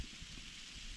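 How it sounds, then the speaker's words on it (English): Steady hiss of freezing rain or small hail coming down in woodland at deer camp, faint and even with no other sounds over it. "It's like freezing rain and"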